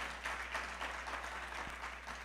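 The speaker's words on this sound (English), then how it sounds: "can we just give them all a round of applause up to this point?" Audience applause at a music academy recital, a steady, fairly quiet wash of many hands clapping without a break, heard from within the hall with no voices over it.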